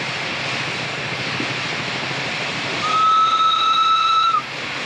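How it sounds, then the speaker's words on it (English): A portable steam engine's shrill whistle blows steadily for about a second and a half over a constant mechanical rumble, then cuts off abruptly. "Not quite sure why they had a whistle fitted to a portable."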